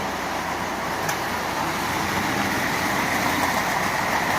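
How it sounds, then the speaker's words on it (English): A Marx 400 toy locomotive shell fitted with a double reduction motor, running forward with a steady, close, continuous mechanical whir and rumble at an even pitch, with no talk. "That's a Marx 400 shell with a double reduction motor in it."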